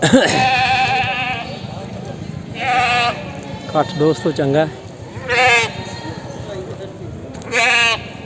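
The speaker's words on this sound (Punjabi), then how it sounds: "ਦੋ ਬੱਕਰੇ ਇੱਕ ਪੱਟ ਉਧਰ ਬੱਕਰੀਆਂ ਆਈਆਂ ਖੜੀਆਂ" Goats bleat at a village goat market, several loud, wavering bleats repeating every couple of seconds up close, with someone talking between and over them.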